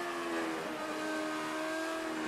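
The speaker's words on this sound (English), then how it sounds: "Oh, you can hear that V10 car." A V10 engine of a Ferrari F2002 in the racing game F1 2018, a steady high-pitched whine holding at constant revs over a rainy track, heard alone without talk.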